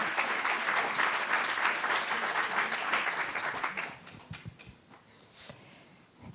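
An audience at a breast cancer conference claps loudly at first, then the applause thins into scattered individual claps and fades toward the end.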